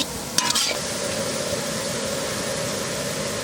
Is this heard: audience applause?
no